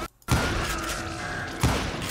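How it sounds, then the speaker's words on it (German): Two sharp gunshot blasts from the Western shooter game Call of Juarez: Gunslinger crack out, each followed by a reverberating tail, separated by about a second and a half. "Drei Schüsse, drei Tote."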